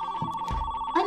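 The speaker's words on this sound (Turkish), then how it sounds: "Telefon çalıyor." A telephone rings in a shoe shop toy scene, a short steady electronic ring tone with a brief low thump partway through.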